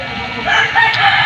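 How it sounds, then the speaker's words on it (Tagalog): A rooster crows loudly and close by, a single drawn-out call with a raspy edge over a steady background hum. "Pasensya na kayo sa manok ni Daddy."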